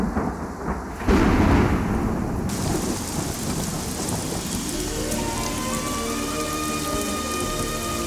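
Heavy rain pounds down steadily, with rolling thunder that booms loudly at first and then rumbles on beneath the downpour, no voices heard.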